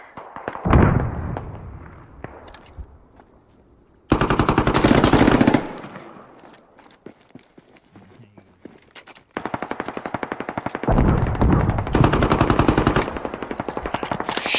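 Machine gun fire from a military shooter game on the Yehorivka map: a loud nearby burst, then long sustained automatic fire in rapid rhythmic volleys, separated by quieter stretches with distant shots.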